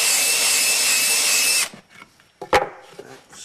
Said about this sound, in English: I'm going to countersink